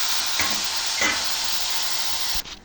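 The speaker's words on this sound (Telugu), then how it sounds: "చూసారా మంచిగా ఉడుకుతాయండి" Dried shrimp curry simmering and sizzling in a pan, a steady loud broadband frying hiss with two brief stirring scrapes, cutting off near the end.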